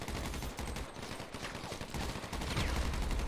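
Gunfire in GTA 5, rapid bursts of close, loud shots rattling in quick succession, dense and continuous across the moment.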